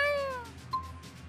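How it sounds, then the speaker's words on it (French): A cat in the game Tales of Xillia 2 gives a short meow, its pitch sliding down. A fainter second chirp follows, over a quiet low background hum. "J'ai entendu un chat."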